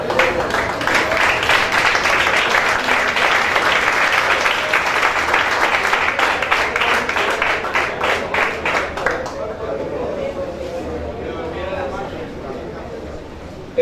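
A church congregation claps in steady rhythmic unison for about nine seconds, loud and full, then the clapping fades into a softer murmur as voices carry on underneath.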